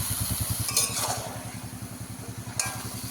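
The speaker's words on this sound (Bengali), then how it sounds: "এবারে সবজিও কষাবো আর এই মাছটাকেও ভালো করে কষিয়ে নেব।" Fish and vegetables, lote fish with Malabar spinach greens, sautéing in a pan with a steady sizzle, a few louder scrapes of stirring against the pan, and a low rhythmic hum running underneath throughout.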